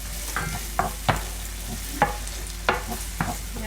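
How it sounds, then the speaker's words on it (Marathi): Onion frying in a pan with tomato added for crab curry, a steady low sizzle broken by about six sharp spatula scrapes and stirs spaced roughly every half second to second, close and alone with no talk. "कांदा फ्राय करून घेते तोपर्यंत त्याच्यात मी आता हे टोमॅटोही टाकून घेते"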